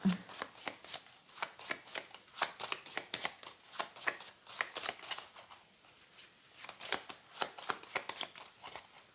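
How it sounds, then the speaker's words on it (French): A deck of cards being shuffled by hand during a tarot-style reading, a steady run of crisp riffling flicks up close for several seconds with no voices. "Et on mélange les 5 cartes."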